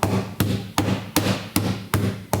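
A ball peen hammer strikes a part on an RB26DETT engine during a swap into an R34 Skyline, giving six sharp, evenly spaced metallic blows about every 0.4 seconds, each with a short ringing decay.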